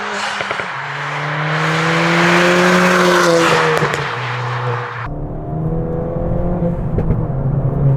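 A modified Ford Fiesta ST engine revs hard and loud, rising and falling through strong harmonic tones, with a sharp drop in pitch midway as it comes off throttle then builds again.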